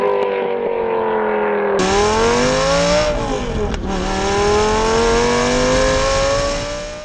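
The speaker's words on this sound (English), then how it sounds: "his first car to get an upgraded exhaust system, this one being a high-tech X-pipe system" A Lamborghini Gallardo with an upgraded X-pipe exhaust revs hard and loud, its exhaust rising and falling in pitch across several sustained pulls, close by and with no talking.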